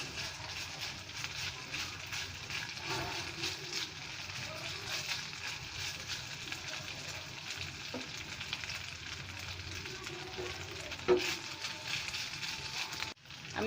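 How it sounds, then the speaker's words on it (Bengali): Carrot and onion frying for a beef burger patty make a continuous soft sizzle, with an occasional faint utensil tap against the pan. "আমি 30 মিনিট ভেজে নিব।"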